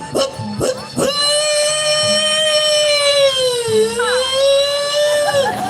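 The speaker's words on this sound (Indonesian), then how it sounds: "ambulan berlewat" A long wailing ambulance siren with rich harmonics holds steady, then dips slightly in pitch as it passes, loud and close, with faint background rumble, in Bali.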